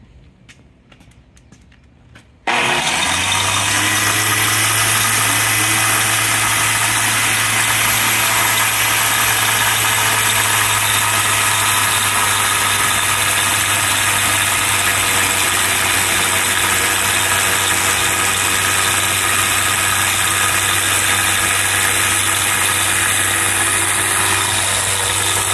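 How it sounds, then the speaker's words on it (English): Blastrac 1-8DEZ 8-inch 110-volt concrete shotblaster starting after a short quiet moment, then running loud and steady close by with a constant low motor hum and dense gritty blasting noise, with no talk. "This is the 110-volt Shotblaster. It's an 8-inch path, and we're going to run it here and show you that it works."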